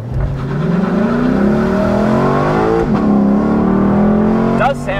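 A Lexus LC500 engine revs hard with wheel spin and climbs steeply in pitch through several gear pulls, roaring close by with a brief dip mid-run.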